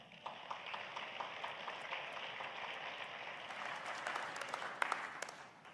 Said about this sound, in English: Great place to clap your hands